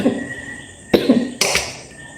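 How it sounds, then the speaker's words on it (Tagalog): A woman coughs three times, short, close-up bursts spaced about half a second apart, with quiet room tone between them. "inuubo ako."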